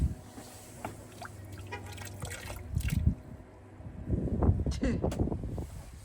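Water trickling and splashing steadily as it drains out of a boat, with a breezy outdoor background and occasional voices in the mix.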